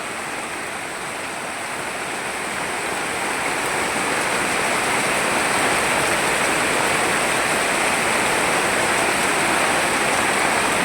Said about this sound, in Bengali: একই রকমভাবে ডালটাকে ছাঁকনির মধ্যে ঢেলে নেব।